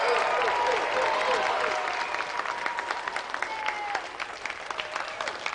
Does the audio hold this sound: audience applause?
yes